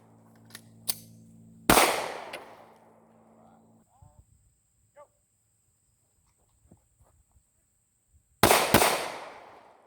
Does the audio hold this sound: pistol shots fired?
yes